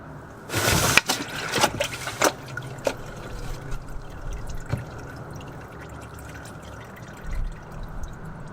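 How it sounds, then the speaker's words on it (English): Engine oil dripping and trickling from the filter housing of a Lexus LX570 during an oil change, quiet irregular drips and a faint stream, with a few louder clanks near the start. "you're getting more oil coming out of the filter housing than normal"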